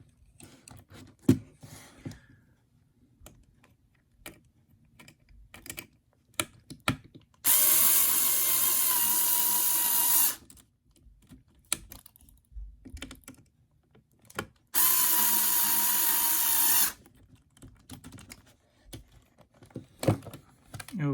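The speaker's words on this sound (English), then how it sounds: "We can drive the bolts through a little bit further" Small power driver running bolts through the steering assembly of a Tamiya TT-02 Type SR radio-control car chassis kit, two loud sustained whirring bursts of a few seconds each, separated by light clicks and handling noises, no voices.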